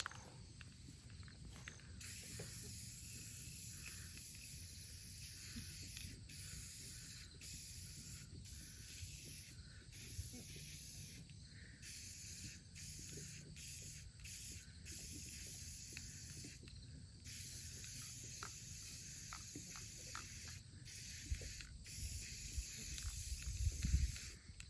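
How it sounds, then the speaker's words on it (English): Teal chalk spray paint hisses from an aerosol can outdoors in a series of uneven bursts, some spitting and sputtering, with soft rustling and shuffling between sprays and no talking. "If your chalk spray paint is spitting,"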